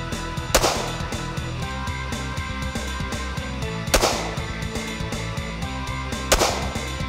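A .22 Magnum mini-revolver fires three loud, sharp shots spaced a couple of seconds apart over steady background noise.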